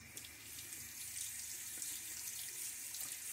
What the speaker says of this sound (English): Let me rinse off the handle.